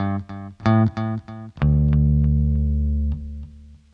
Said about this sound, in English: It is a Boss DD3 that I actually stole from my guitar pedal board